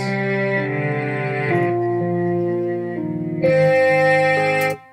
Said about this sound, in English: this is a cello section patch